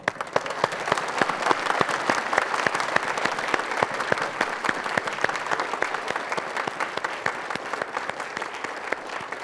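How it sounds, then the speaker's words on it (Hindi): Sustained audience applause at a spiritual discourse session on the Gita, dense steady clapping from a gathered crowd lasting the whole stretch with no voices over it. "बहुत बढ़िया, आपके लिए तालियां"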